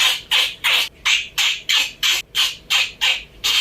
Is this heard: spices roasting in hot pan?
no